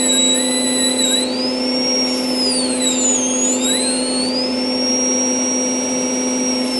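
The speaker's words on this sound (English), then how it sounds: "So I'm going to turn on the dust collector." A rotary tool engraves a glass wine bottle while a dust collector runs: a steady, loud motor drone with a high, thin whine that rises and falls in pitch as the bit moves. No talking.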